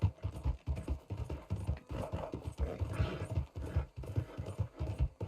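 A horse trots along in Red Dead Redemption 2, its hooves clip-clopping in an even, close rhythm for several seconds with little else over it.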